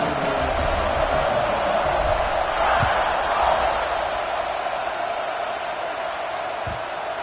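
Football stadium crowd buzzing after a score, a dense, steady roar of many voices filling the space with a few faint thumps, continuous and loud throughout.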